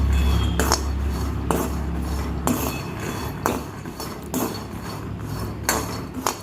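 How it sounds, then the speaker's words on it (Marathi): Peanuts dry-roasting in a pan are stirred with a metal spoon, giving a series of sharp scraping clinks and knocks against the pan at irregular intervals over a low background hum. "शेंगदाणे मी व्यवस्थित असे भाजून घेणारे एक वाटी शेंगदाणे घेतले आहेत मी"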